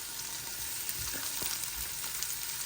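Lean pork mince, 5% fat, sizzles steadily in a hot pan while being stirred for a soup, with a constant frying hiss and a few soft scraping clicks of the stirring utensil.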